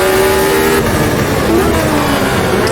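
A race car in the Automobilista 2 sim, at the 1983 Race of Champions, accelerates hard with a loud, steady engine drone that climbs in pitch and holds through the gear, with no talk over it.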